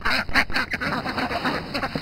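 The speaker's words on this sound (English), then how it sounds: "And then my little duckies." Several small ducks quack rapidly in a busy, close chorus of overlapping calls, kept in a winter poultry yard.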